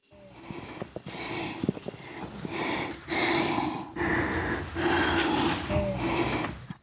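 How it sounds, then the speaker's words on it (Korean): Heavy, labored breathing from a woman with lung cancer, rasping and wheezy, close to the mic, repeating steadily through the clip. "숨이 좀 가빠. 걸을 때면 쌕쌕대고."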